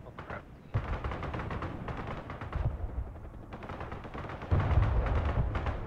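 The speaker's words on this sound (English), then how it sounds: "Do you want to fire artillery up there?" Artillery and automatic gunfire from the Broken Arrow military strategy video game: a dense, continuous barrage of overlapping booms and rapid shots with heavier surges near the start and end.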